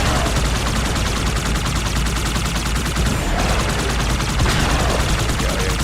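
Turrets in the video game Halo 2 fire in dense, continuous bursts of loud, rapid gunfire that fill the whole stretch without a pause.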